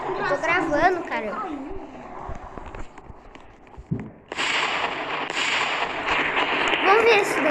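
An explosion in the Roblox Ragdoll Engine game bursts in around the midpoint and is followed by a loud, sustained noisy roar, after excited talk and game sounds at the start.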